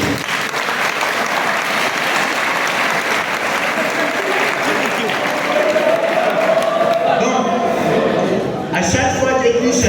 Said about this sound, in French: vous pouvez encore applaudir pour lui